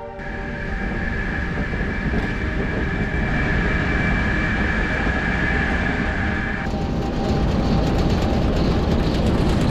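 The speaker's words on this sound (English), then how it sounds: "This 350 horsepower diesel electric shunter was designed back in the 1950s for marshalling works in goodyards." A 1950s 350-horsepower diesel-electric shunter locomotive rumbles at Horsted Keynes station on a heritage railway, a loud steady engine drone with a tonal whine that cuts off midway, leaving the rumbling body of the sound.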